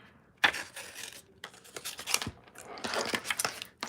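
Scissors snipping around colored paper card pieces, a series of close, crisp cuts and paper rustles in an irregular rhythm at moderate volume.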